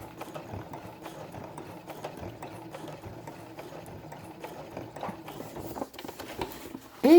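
A sewing machine stitches along a line on felt for a baby's quiet book page, a quick steady mechanical whirring and clicking, faint and close, pausing briefly before a sharp louder noise at the end.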